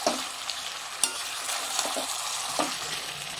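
Chicken and potatoes stir-fry in a hot pan with a dense, continuous sizzle, broken by a few soft scraping strokes of a spatula.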